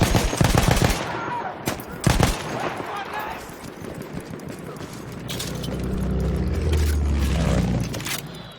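A light machine gun fires in Battlefield 1 with rapid clattering bursts up front. The bursts fade into a busy battlefield din with a deep rumble swelling toward the end.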